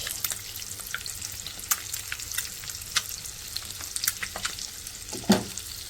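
Spices for a methi egg curry fry in a pan with a soft, crackling sizzle of irregular pops and spits, close but fairly quiet, and one brief stirring knock near the end.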